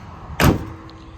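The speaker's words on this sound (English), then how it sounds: "Shut the hood here." The hood of a 1971 Chevrolet Camaro RS SS 396 big block is shut with one short, loud slam, followed by a quiet background.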